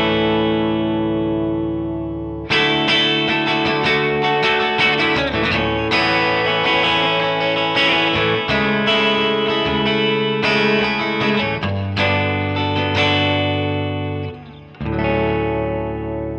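Electric guitar strummed in open DAEAC#E tuning through distortion and chorus effects, ringing chords that sustain and overlap in several loud strums, with a brief dip near the end, playing alone without speech.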